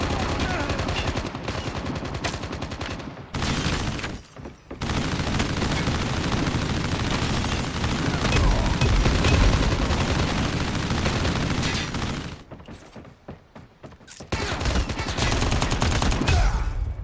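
Heavy Call of Duty Mobile gunfire, dense bursts of automatic rifle shots with booming impacts, loud and continuous with two short pauses where the shooting drops out.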